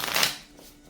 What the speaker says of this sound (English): 3 more shuffles for the twin flames, divine masculine, divine feminine.